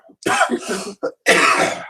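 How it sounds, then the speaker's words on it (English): A few harsh coughs and throat-clearing bursts close by from someone with a cold, separated by short pauses, with a longer rough coughing fit at the end. "If you could just stop coughing."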